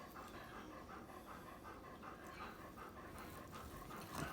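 A dog pants rapidly and rhythmically in a kitchen setting, faint and steady across the short stretch, with no talking.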